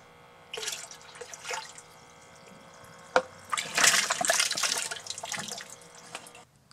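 Water gurgling and splashing from a low-power airlift geyser pump, arriving in irregular surges with a sharp splash burst in the middle, close and moderately loud, with no voices.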